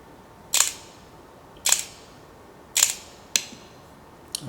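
Five crisp, close mechanical shutter clicks from a camera set to a slow shutter speed, each a dry snap trailing into a brief whir, spaced about a second apart against near silence.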